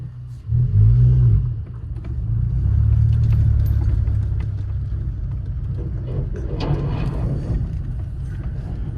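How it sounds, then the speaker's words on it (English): A Volkswagen MK5 Golf on newly fitted wheels with rolled fenders, out on a short test drive, gives a low, steady rumble of engine and road noise heard from inside the car, swelling briefly as it pulls away. "We're about to go for a quick little test drive."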